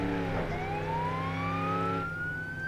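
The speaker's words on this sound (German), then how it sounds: "Ich glaube, mit M mache ich die Sirene an." A police car siren in the BeamNG.drive driving game, a loud continuous wail sweeping slowly upward over the steady drone of the car's engine, close and unbroken throughout.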